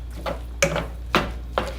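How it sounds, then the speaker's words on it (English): Ground turkey being broken up in a pan with a utensil, giving three or four distinct scraping strokes at a steady rhythm over a constant low sizzle. "So I'm just chopping this up here."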